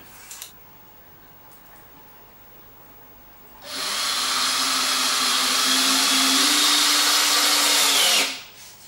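A power drill whines loud and close as it drives a screw into a wooden board, a single sustained burst of about four and a half seconds after a quiet start, then cutting off.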